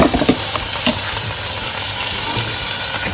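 Bite-size pieces of chopped, washed chicken breast sizzle steadily in a pan over full heat, a continuous close frying hiss with small crackles and occasional stirring sounds throughout.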